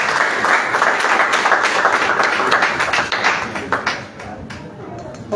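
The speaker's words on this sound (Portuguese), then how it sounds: "Uma salva de palmas." Audience applause at a civil-society discussion event, a dense, steady wash of many hands clapping that fills the space before gradually thinning out toward the end.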